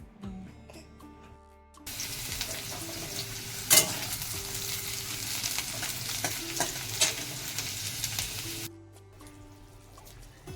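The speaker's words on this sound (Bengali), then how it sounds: "আজকে সকাল সকাল মাছ রান্না করছি মামামের জন্য" Fish cooking in a frying pan, a strong continuous sizzle that starts abruptly and cuts off about seven seconds later, with a sharp knock and scattered crackles, faint household tones before and after.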